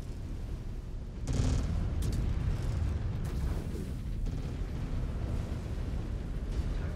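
A mech blows up as it is destroyed in the video game MechWarrior 5: a sudden heavy blast rises over a roaring, rumbling battle din and settles into a sustained low roar.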